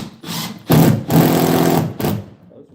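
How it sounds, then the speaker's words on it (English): A power drill drives screws into a door hinge, with loud close bursts of whirring that start, stop briefly and pick up again before winding down. "screws in real quick"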